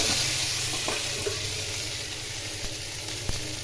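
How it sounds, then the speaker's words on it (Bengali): Ground cumin, chili powder, turmeric and salt sautéing in a hot pan for dal pakora curry, a steady close sizzle with occasional soft stirring scrapes and no voices. "এখন এগুলো আমি কষিয়ে নেব।"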